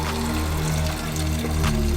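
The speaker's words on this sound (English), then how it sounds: "I was actually flushing all the brake fluid out." Brake fluid drains from a Mazda RX-7 (FD) during a brake flush, heard as a continuous pouring, trickling liquid over a low steady hum, up close with no speech.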